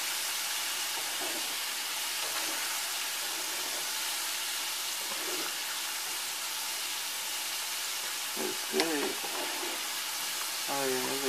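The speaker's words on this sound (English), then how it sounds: "Go ahead and on medium heat frying." Shrimp fry on medium heat for po' boys, a steady, hissing sizzle of hot oil running through the whole stretch with a few brief clatters and faint background sounds near the end.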